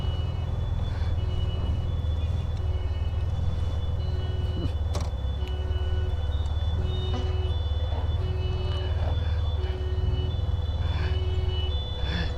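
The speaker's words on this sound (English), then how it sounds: "You might be able to see and hear the rescue truck as well." A rescue truck drives past during a classic car run from Ipswich to Felixstowe, its steady engine rumble loud and continuous, with intermittent electronic beeping tones over the top.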